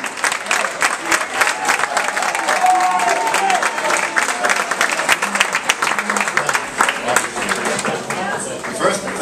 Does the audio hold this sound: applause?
yes